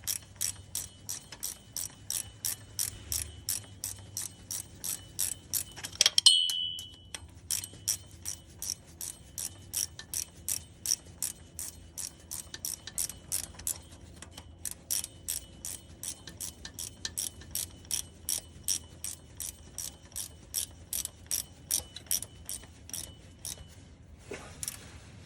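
A ratchet tightens a transmission hose line fitting on a 2015 Chevy Tahoe LT with a 6L80 transmission, making steady rhythmic clicking in close, even bursts, broken once by a brief louder metallic clatter.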